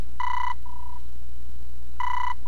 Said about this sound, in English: Ninten, get the telephone!